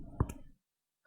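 A single mouse click on the Go Live button in OBS Studio, crisp and close, followed by another brief tap at the very end amid near silence.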